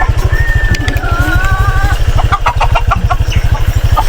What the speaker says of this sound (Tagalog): yung mga manok natin nandito din